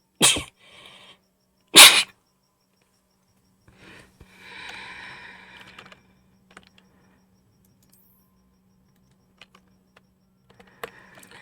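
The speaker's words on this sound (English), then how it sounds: "I gotta sneeze." Two sharp, loud sneezes come close together at the start, followed by quiet scattered clicks and faint rustling, with a low electrical hum underneath.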